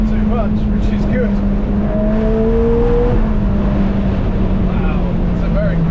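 A 2025 Ferrari Roma Spider accelerating hard on the road, a loud steady engine drone with rising and shifting tones carried continuously under wind noise, with a voice talking over it.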